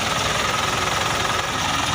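A warmed-up engine runs steadily after an oil seal replacement, a continuous close mechanical drone with a fast, even pulsing and no talk over it.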